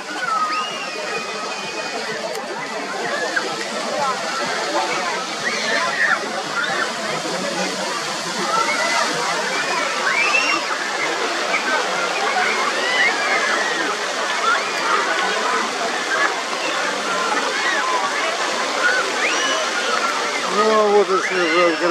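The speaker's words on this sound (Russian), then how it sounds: "Открытый фонтан." Water splashes continuously from an open city fountain in Kharkiv, standing where a Lenin monument once stood, as a steady bright rushing spray with a crowd murmuring faintly in the background.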